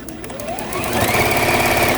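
Sewing machine stitching the outer borders of a quilt made from vintage tea towels, a close, steady rapid mechanical whir that rises in pitch as it speeds up and holds its pace.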